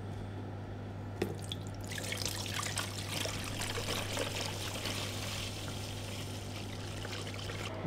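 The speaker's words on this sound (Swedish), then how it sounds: "Jag har kört den här under vatten." Running water pours and trickles steadily as a freshly electroplated metal part is rinsed under a tap, with a brief clatter near the start and a constant low hum underneath.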